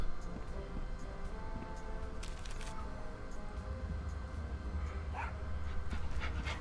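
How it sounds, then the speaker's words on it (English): Small dog in the Tales of Monkey Island video game, quiet panting, whimpers and soft yips over a faint game soundscape, with brief sharp cracks. "Oh, such a cute little dog."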